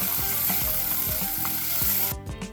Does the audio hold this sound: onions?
yes